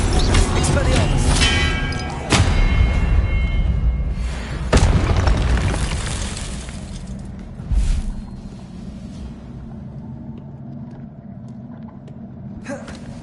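The Expelliarmus spell is cast in the game Hogwarts Legacy, landing as a loud booming impact with sharp bursts, then a fading rumble over several seconds amid combat noise and speech.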